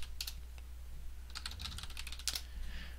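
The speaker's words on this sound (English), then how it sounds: "we'll type in, and we'll pick a new password" Password being typed on a computer keyboard during an OpenVPN server setup on Linux: a quick run of close, crisp key clicks in irregular bursts over a low steady hum, with no one talking.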